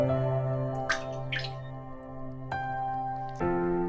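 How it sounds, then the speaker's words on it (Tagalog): Water drips and splashes while moringa (malunggay) leaves are washed for a Filipino vegetable soup, with a few distinct drips and splashes over a steady low hum, close and fairly quiet. "Next na hugasan ay yung malunggay."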